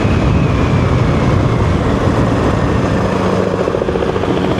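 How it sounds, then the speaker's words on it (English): A loud, continuous rotor roar of a helicopter overhead, steady throbbing noise with no voices. "Look at the helicopter."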